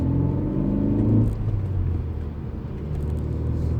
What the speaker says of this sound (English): So it pains me to say that I'm driving a Ford.